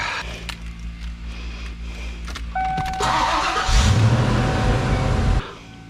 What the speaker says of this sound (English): Just restart the car.